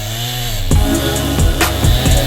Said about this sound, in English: Oh, Stan, he come down, say he want to chop some trees